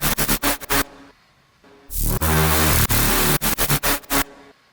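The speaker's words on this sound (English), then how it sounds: "here what I've got is a saw wave without the fundamental again, and I have a sine wave that I've kind of synced" A synth patch layers a saw wave with its fundamental removed and a synced sine wave. It plays as rapid stuttering pulses that open into a sustained buzzing swell, then stutters again, loud and alone.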